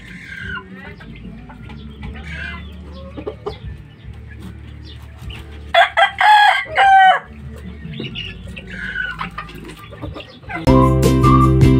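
Several fighting-cock roosters crow in a small backyard coop, with loud close crowing bursts over steady clucking and farm ambience, and a strong, sustained crow near the end.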